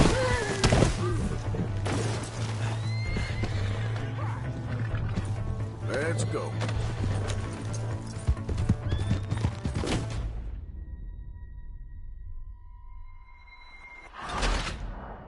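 A horse in a video game clip-clops steadily and lets out a whinny, while characters speak and game music and effects fill the background; the sound cuts to near silence near the end.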